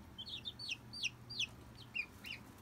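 An injured baby chick peeps in quick, high, thin chirps, repeated about every half second, faint but distinct over a low background hum.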